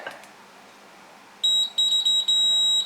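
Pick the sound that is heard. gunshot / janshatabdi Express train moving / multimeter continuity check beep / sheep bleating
multimeter continuity check beep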